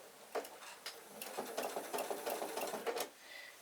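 Sewing machine stitching a curved seam on a quilt block, running in short, stop-start bursts of needle chatter with brief pauses between stitches, steady and close.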